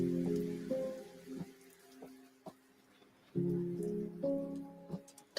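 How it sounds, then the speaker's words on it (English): Steady rain pattering on a surface, with scattered drops and louder bursts of splashing at the start and again midway, fairly quiet overall. "We'll play with rain. I'm going to lower the rain a little bit."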